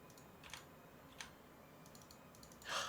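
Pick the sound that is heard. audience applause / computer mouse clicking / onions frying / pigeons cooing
computer mouse clicking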